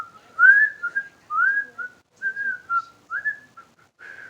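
Close, clear whistling in short melodic phrases separated by brief pauses, alone with no other sound around it.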